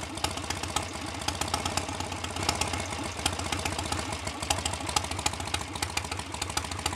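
A BSA A65 Hornet motorcycle engine with high compression ticks over at idle, a steady close, even rhythmic chugging with no throttle blips throughout.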